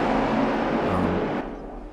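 DTM touring car engines roar in a RaceRoom race at Brno, a dense loud drone of several cars that thins and fades as they pass, with no talk.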